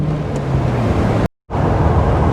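Dodge Cummins turbo diesel truck with a loud exhaust, a steady deep rumble close by that cuts out completely for a moment before returning.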